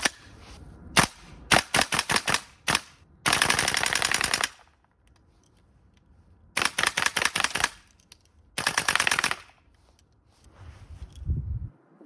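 A GHK M4 gas blowback airsoft rifle fires on red gas, loud close bursts of rapid sharp cracks and short single shots, with longer full-auto strings near the middle and end and silent gaps between volleys.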